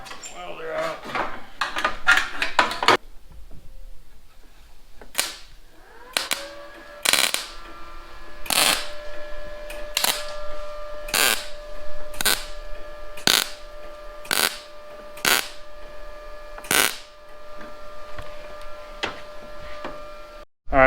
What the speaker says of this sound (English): So now I'm gonna get all these seams welded up